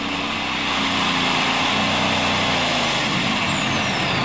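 A 7,000-horsepower Allison-powered modified pulling tractor engine roars loudly and steadily throughout at a tractor pull, a thick, continuous mechanical bellow with a deep rumble and no pauses.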